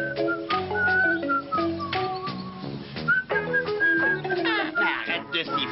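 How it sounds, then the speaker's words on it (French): A cartoon character whistles a wandering tune, steady and fairly loud, with a melodic line running over a music bed in an animated French series. "Arrête de siffler, j'entends rien."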